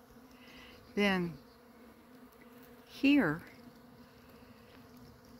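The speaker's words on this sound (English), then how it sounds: "every once in a while, a bee is buzzing pretty close by" A bee buzzes near a pollen feeder outdoors in spring, two short loud passes about two seconds apart as it flies close by, over a quiet background with a brief spoken word.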